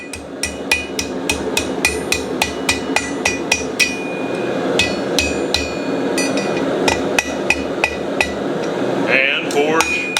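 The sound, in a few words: hammer forging a hook on the anvil horn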